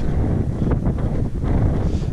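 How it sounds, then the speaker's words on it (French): Strong wind blows across a town's main square, buffeting the microphone with loud, constant low rumble and gusts throughout. "Et il y a beaucoup de vent."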